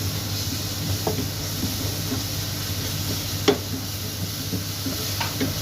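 Onions and garlic fry in a hot pan, giving a steady sizzling hiss with occasional light clinks of a utensil stirring against the pan, close and continuous with no voices.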